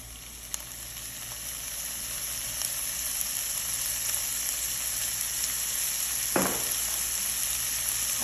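Olive oil sizzles in a hot pan while liver cooks, a steady bright frying hiss throughout with a short sharper crackle of spatter near the end, no voices.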